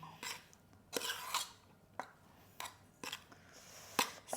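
Hot rice being mixed by hand with avakaya mango pickle, giving soft squelching rubs and scrapes in irregular bursts, close and fairly quiet.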